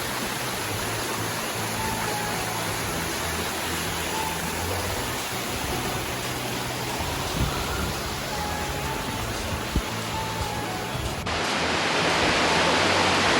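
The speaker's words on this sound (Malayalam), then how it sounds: "ഇതാണ് 3ാമത്തെ വെള്ളച്ചാട്ടം." The third waterfall at Thusharagiri, water tumbling from a high rock, fills the air with a loud, constant broadband rush heard up close, steady throughout with no voices.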